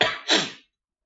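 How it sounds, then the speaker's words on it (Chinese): A single short cough in two quick bursts, close and fairly loud, followed by silence. "不好意思，最近一直在咳嗽。"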